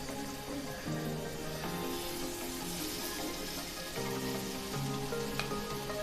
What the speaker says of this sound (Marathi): त्यामध्ये एक टेबलस्पून इतकं तेल टाकून घेतलेलं आहे आता आपण जे कबाब तयार करून घेतलेले आहेत ते अलगत हाताने उचलून यामध्ये असे ठेवून घ्यायचे आहेत